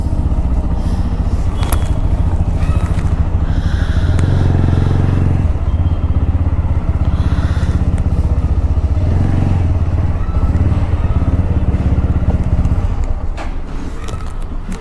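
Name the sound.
motorcycle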